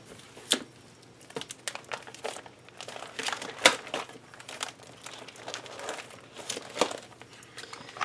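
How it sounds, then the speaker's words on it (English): Cards slide into plastic page pockets of a scrapbook album, producing close, crinkly rustles and sharp plastic crackles in irregular bursts, with no speech. "I will slip these cards into the next page in my project life"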